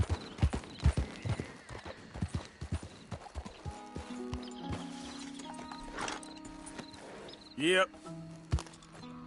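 Horse hooves clip-clop in Red Dead Redemption 2, a handful of sharp hoofbeats up front, then lighter steps under sustained background tones, with a brief neigh near the end; a voice speaks briefly at the start.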